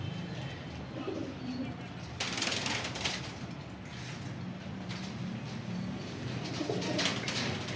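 Pigeons in a large loft of about a hundred birds, cooing softly and repeatedly over a rustling background, with brief louder flurries of wing or cage noise.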